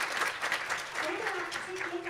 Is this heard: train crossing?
no